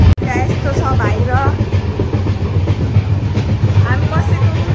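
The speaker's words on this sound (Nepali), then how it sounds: "हल्लिरहेको ट्रेन त न गाइस यस्तो छ बाहिर" Inside a moving train between India and Nepal, the carriage rattles and rumbles with a loud, continuous low roar and clatter, with brief squeals and a sharp bang near the start; voices are heard faintly among the noise.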